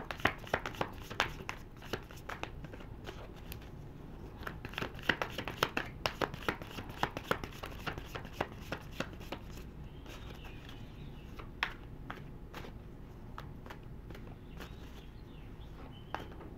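Celtic Tarot cards are shuffled close by in quick bursts of soft papery flutters and taps, busiest in the first half and then thinning to scattered clicks.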